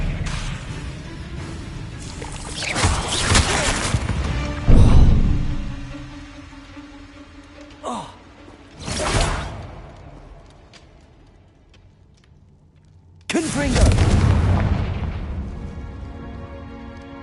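Spell blasts from Hogwarts Legacy, including Bombarda, Confringo and Expelliarmus, go off as a series of whooshing bursts: a rising swell ending in a heavy boom, a brief zap, another sharp burst, then a loud, sustained crash with a long rumbling tail.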